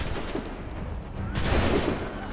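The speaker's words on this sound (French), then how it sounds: "Ils sont en train d'abattre tous les citoyens" Gunfire rattles in a street massacre of citizens in the video game Assassin's Creed 3, a dense fusillade of shots with a sudden louder burst midway, no talking.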